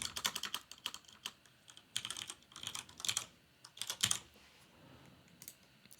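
Scala code being typed on a computer keyboard in quick irregular bursts of clicky keystrokes, close and clear with short pauses between runs, no talking.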